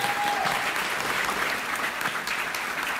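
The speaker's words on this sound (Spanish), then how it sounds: "Aplausos para Margot." Audience applause during a Spanish-language magic podcast recording, a steady dense wash of clapping that holds at an even level for the whole stretch with no voices over it.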